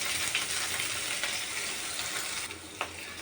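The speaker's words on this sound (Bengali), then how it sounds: "দিয়ে একটু হালকা করে আমি ভেজে নেবো" Onion, garlic and green chillies fry in a pan with a steady, loud, close sizzle and crackle that holds for the whole stretch, with a few brief stirring clicks near the end and no talking.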